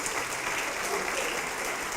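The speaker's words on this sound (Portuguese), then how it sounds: "Vamos aplaudir mais, igreja." A church congregation applauds during a Portuguese worship service, a steady, dense wash of many hands clapping that stays even from start to finish.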